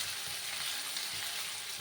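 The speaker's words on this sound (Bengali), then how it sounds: "মাঝারি আছে আমি পেঁয়াজগুলোকে একটু ভেজে নেব" Onions frying in a pan, a quiet even hiss of sizzling oil throughout with faint stirring, close by and without any voices.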